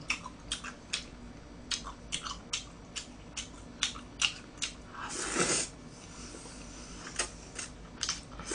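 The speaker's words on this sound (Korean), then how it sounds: "제가 쩝쩝 소리 내는 거 이해 좀 해주세요" Close, wet chewing of sweet and sour pork and black bean noodles with repeated lip smacks in an irregular rhythm, one louder crunchy burst midway, no talking.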